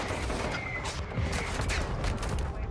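Rapid gunfire in the video game Call of Duty: Modern Warfare II crackles as a dense, continuous barrage, loud and steady throughout with no voices over it.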